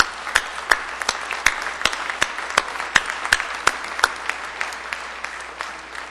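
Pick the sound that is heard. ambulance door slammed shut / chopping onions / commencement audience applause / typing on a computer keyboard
commencement audience applause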